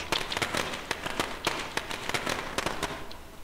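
Rapid crackling bursts of video game fireworks in State of Decay pop and snap irregularly, a dense string of sharp bangs filling the clip at moderate distance.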